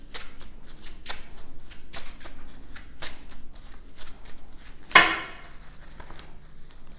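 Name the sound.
shuffling playing cards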